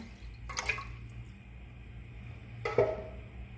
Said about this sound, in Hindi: अब हम यखनी में मज़ीद पानी डालेंगे।